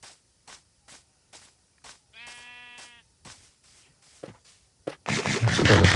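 A video game sheep bleats once in a clear wavering cry, set among a run of short regular footstep-like taps and followed by a louder burst of scuffling noise.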